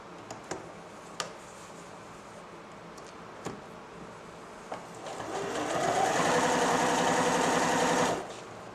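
A Janome 760 sewing machine gives a few faint clicks and taps, then stitches in a steady whirring run for about three seconds up close before stopping.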